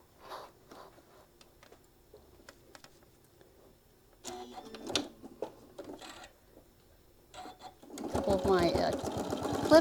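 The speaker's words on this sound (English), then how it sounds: "we're just going to slowly just start stitching all the way around" A sewing machine starts stitching a quarter-inch seam around a fabric travel case for a mini iron, its fast, loud mechanical chatter following softer handling noises and scattered talk.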